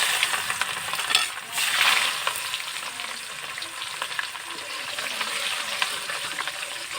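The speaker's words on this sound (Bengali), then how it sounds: "আমি তেল দিয়ে দিছি, এখন আমি এর ভিতরে পেঁয়াজটা দিয়ে দেব" Onion fries in hot oil in a pan, producing a close, steady crackling sizzle with a brief surge early on and light stirring scrapes continuing throughout.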